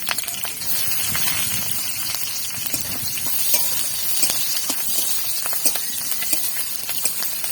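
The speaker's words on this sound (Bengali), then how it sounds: "এবার দিয়ে দিচ্ছি কয়েকটা কাঁচা লঙ্কা চেরা, আর দিয়ে দিচ্ছি কয়েক কোয়া থেতো রসুন।" Slit green chillies and crushed garlic cloves sizzle in hot frying oil with nigella seeds, a steady close crackling hiss with scattered sharp pops and spits running throughout, no talk.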